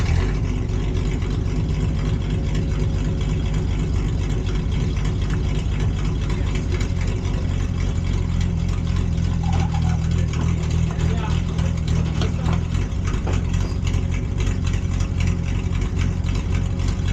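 A Snow Cat engine runs steadily at idle, a loud continuous low rumble throughout with a slight swell later on, and people talk over it.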